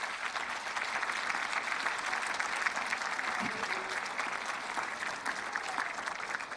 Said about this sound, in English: Seniors, how about you starting a round of applause for your family members to thank them for all of their efforts?